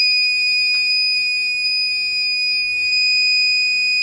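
Microtek 24-volt inverter with all LEDs lit, sounding a continuous high-pitched alarm tone that holds steady and loud throughout with no breaks, over a faint hum.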